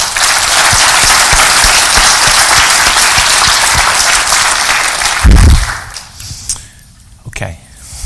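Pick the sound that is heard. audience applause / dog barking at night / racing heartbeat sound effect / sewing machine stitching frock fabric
audience applause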